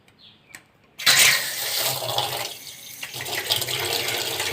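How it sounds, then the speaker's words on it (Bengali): Tap water running steadily over hands being washed with soap, a sudden loud gush after a moment of quiet, continuing as a close, even splashing stream. "ওই সাবান দিয়ে হাত ধুয়ে ফেলান"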